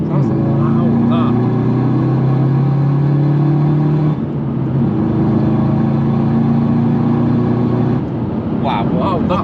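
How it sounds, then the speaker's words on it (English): Loud droning engine of a Seat Leon 2.0 TDI with a straight-pipe exhaust, a steady low rumble with shifting tones as it cruises in traffic, a short dip near the middle, with voices talking over it. "It is loud for a DPF, it's mad loud."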